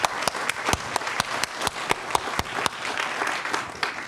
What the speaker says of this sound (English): we should give him rounds of applause